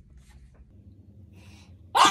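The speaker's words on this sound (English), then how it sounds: "Oh gosh, I have to sneeze." A single sudden sneeze from a person at the very end, loud and close, after near-silence.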